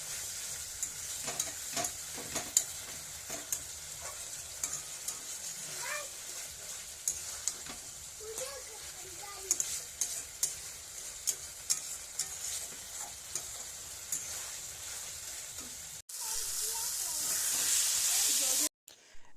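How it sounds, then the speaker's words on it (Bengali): Chickpea ghugni with broth added is stirred and fried in a pan, bringing a low, steady sizzle with frequent spatula scrapes and clinks, then a louder rushing hiss briefly near the end. "ঝোল দেওয়ার পরে ভালো করে আবার নেড়ে চেড়ে কষিয়ে নেওয়া হবে"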